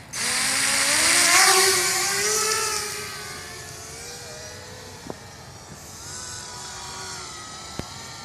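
A DRS210Pro drone tears past on a full-throttle pass, its loud, high rotor whine surging toward a peak and then sliding down in pitch as it pulls away, leaving a steady buzzing drone with a couple of sharp ticks.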